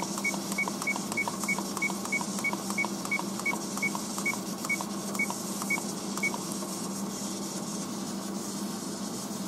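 Kitchen timer on a gas stove being set for a pressure cooker of natto, giving a long run of evenly spaced, sharp electronic beeps over faint background noise.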